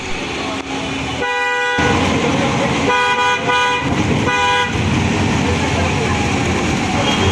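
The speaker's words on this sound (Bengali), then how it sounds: "এই ক্লিপ থেকে আপনারা ছোটো একটা ধারণা নিতে পারবেন যে এই টাটা ষোলো ষোলোর ইঞ্জিন সাউন্ডটা কীরকম" A Tata 1616 bus idles and runs with a steady broadband rumble at a Dhaka bus counter, broken by three loud horn blasts: one long, one double, one short, amid street noise.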